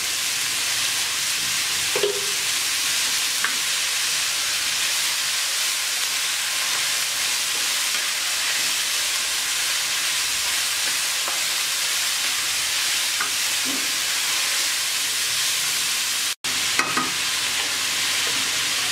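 A covered pan of potato, carrot and bean bhaji cooks on medium-low heat, giving a long even hiss of gentle frying and steam with a few faint clinks and one brief dropout near the end.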